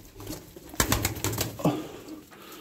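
A clipped-wing female pigeon is thrown into the air and gives a short burst of rapid wingbeats lasting about a second, fairly close, followed by another brief flutter, with no talk over it.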